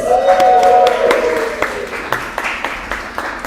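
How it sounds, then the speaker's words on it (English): Audience applause at an arts event honoring artists, a fairly loud wash of clapping with distinct sharp claps standing out, fading gradually as a voice lingers over the early part. "Can you clap it up for our artists, please?"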